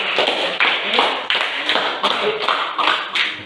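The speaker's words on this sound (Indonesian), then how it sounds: "sekali lagi kita kasih aplaus untuk kelompok 1" A classroom group claps in applause for the first presenting group, a dense, close, continuous patter of many hands lasting several seconds.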